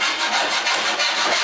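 A file rasps burrs off a metal motor flange on a homemade disc sander, making a few quick back-and-forth scraping strokes, close and loud with no talk.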